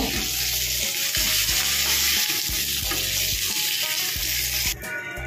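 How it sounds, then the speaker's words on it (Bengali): A fish head frying in hot oil while being stirred and turned, a loud continuous sizzle with repeated scraping strokes of a spatula at a steady rhythm, close and alone, easing off just before the end. "মাছের মাথাটা ভাজা হয়ে গেছে, এবার এটা তুলে নেব।"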